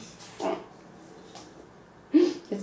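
A dog gives a couple of short, soft vocal sounds, brief whimpering yips spaced apart, with quiet pauses between them.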